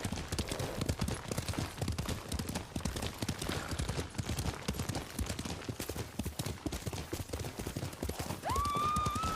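Hooves clip-clop in a fast, steady galloping rhythm as a horse runs in the Ghost of Tsushima video game, loud and close throughout, with a brief whinny-like tone near the end and no talk.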